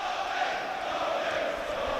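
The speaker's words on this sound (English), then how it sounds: "Derby crowd lifting the noise around Pride Park" Football crowd at Pride Park, Derby, during a Derby County versus Crewe Alexandra FA Cup tie, a steady far-off roar of massed voices holding an even level throughout.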